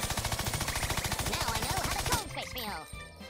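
Rapid video-game gunfire in Worms rattles in a fast, regular burst, followed by cartoonish squeaks and effects as the shooting stops.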